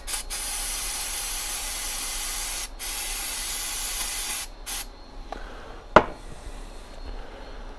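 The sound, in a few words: aerosol starting fluid sprayed for cleaning tractor parts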